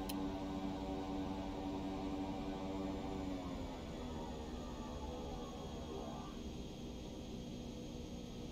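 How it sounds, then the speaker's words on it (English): Jet airliner thrust reversers roaring after touchdown in X-Plane 11, a steady loud engine drone with layered hum that slowly winds down and fades over several seconds, with no talking. "Reverser's on."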